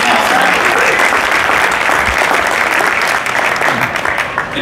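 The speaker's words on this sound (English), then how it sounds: "So let's give them all a big round of applause for helping make today happen." Loud, steady applause from a crowd fills the room at a business networking event, continuous clapping throughout with no break.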